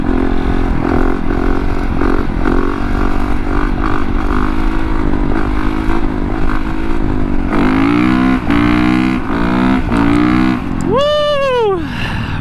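Honda CRF450RX set up as a supermoto motorcycle, engine loud and close as it rides, revving up and down through gears, ending in a sharp rising and falling rev.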